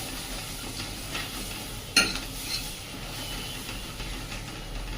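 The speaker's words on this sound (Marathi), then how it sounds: "यामुळे पीठ पण छान भाजलं जातं" Gram flour roasting with a green chilli and asafoetida in a pan gives a low, steady sizzle with soft stirring and a single sharp clink of a utensil, close and quiet, with no voices.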